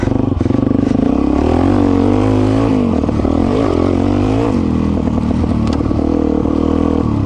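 An off-road motorcycle, a Suzuki DRZ 400 E or a Honda CRF450X, roars loudly and continuously while being ridden during a race, its engine revving up and down with rattling clatter.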